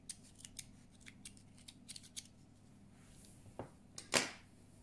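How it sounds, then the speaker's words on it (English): Scissors snip through a leftover yarn tail during amigurumi crochet, with a series of small, faint clicks followed by a louder, sharper cut close up at the end. "I want to cut this remaining yarn tail because it's in my way."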